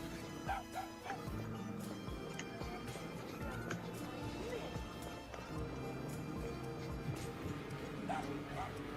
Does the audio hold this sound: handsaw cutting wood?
no